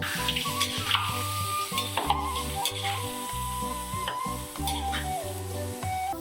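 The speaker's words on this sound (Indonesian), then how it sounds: "Goreng sambil diaduk-aduk agar matang merata." Basreng, crispy fried meatball slices, frying and being stirred in hot oil over medium heat, with a steady loud sizzle and repeated scraping and clattering of the utensil against the pan in an irregular rhythm.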